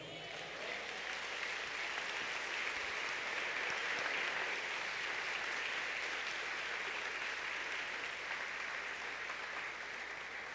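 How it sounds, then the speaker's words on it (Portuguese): A church congregation claps for a long, even stretch, a steady dense patter of many hands at moderate distance, unbroken and without speech. "Quantos podem dar um aplauso ao Senhor?"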